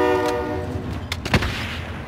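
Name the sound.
train in video game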